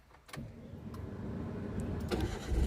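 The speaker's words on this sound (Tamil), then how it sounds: "வண்டி ஸ்டார்ட் பண்ணலாங்களா? ஸ்டார்ட் பண்ணுங்கள்." A car engine cranks and catches, a low rumble building and settling into a steady idle heard from inside the car, parked on a downhill road near Ooty.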